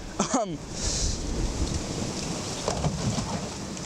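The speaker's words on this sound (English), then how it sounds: "That's a lot of wind." Wind blows steadily outdoors as a broad, continuous rush with gusty swells, heard during a baitcaster fishing lesson; a brief bird-like chirp and some muffled handling noise sit near the start.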